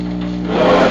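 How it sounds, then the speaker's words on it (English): A drywall sanding sponge rubs over filler on a model lighthouse build, a close, steady scratchy scraping that grows slightly louder over one second, with no talking. "Drywall sanding sponge."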